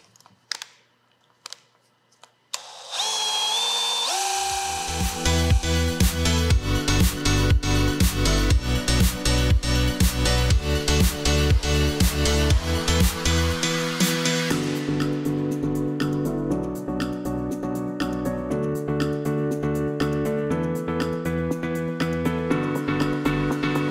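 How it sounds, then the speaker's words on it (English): A black polishing pad spins against the lips of a 3-piece wheel being rebuilt, a dense whirring rasp that runs steadily for about twenty seconds after a few brief knocks and a motor spinning up. "I'm just going to hit them with the black pad and see if it needs a harder pad or not"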